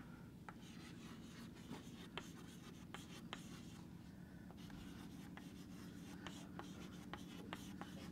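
Pen or chalk writing by hand during a lecture on economics methodology, a steady scratchy stroke-by-stroke sound with short taps, faint and close, with no talking over it.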